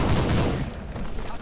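A short burst of rapid gunfire in the Hidden & Dangerous 2 war game, a dense fusillade of close shots that fades slightly over about a second and a half.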